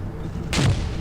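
One short, heavy tank-gun blast in the World War II game Combat Mission Market Garden, a sudden boom with a low thud, rising over a dull background rumble.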